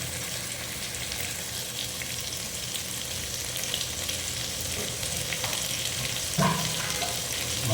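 Onions sautéing in a pan of oil as the base for a mutton gravy give a steady, close, dense sizzle throughout, with one brief clink near the end and no talking.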